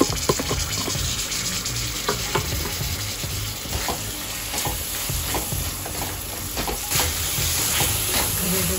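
Onion and dry coconut paste hits a hot pan for aloo matar, setting off a loud, close sizzle with continuous stirring and scraping throughout.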